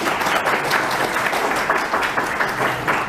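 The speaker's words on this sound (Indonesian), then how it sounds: "berikan aplaus untuk Ito ini." Dense applause from a graduation ceremony audience at a senior high school, steady and close throughout with no break.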